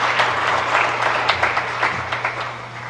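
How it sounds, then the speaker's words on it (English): Audience applause at a symposium on the church and the Jews at Ramaz on Manhattan's Upper East Side, greeting the speakers with a steady wash of clapping and a few sharper claps, plus a low hum underneath. "How about a big round of applause for our speakers?"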